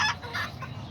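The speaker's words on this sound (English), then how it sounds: "this is my original mom silky chicken." Silkie chickens cluck softly in a few short, nearby bursts, a mother hen's brief clucks over low background hum.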